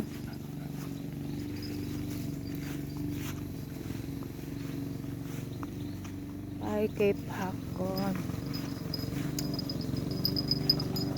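A grass trimmer runs somewhere outdoors in a rural setting as a steady, fairly distant engine drone that continues throughout while people chat nearby.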